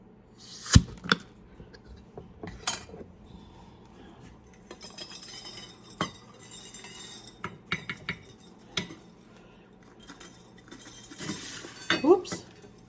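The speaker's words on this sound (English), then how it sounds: "This is what your jar would sound like when you open it." A vacuum-sealed glass jar of shelf-stable potatoes is opened, giving a sharp pop and lid clink followed by scattered glass and metal clinks and handling noises nearby.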